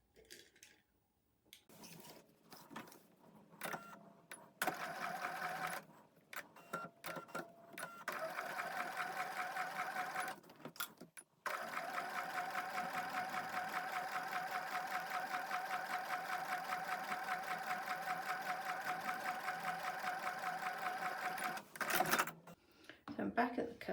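A sewing machine stitches fabric for foundation paper piecing on a quilt block, starting in short stop-and-go bursts, then running in a long steady rhythmic chatter before pausing again.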